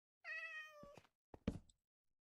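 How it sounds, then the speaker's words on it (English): A cat meows in Minecraft, a clear harmonic mew lasting about half a second, followed by a few soft thumps and a short higher-pitched game sound, alone with no talk. "And a lost little kitty cat."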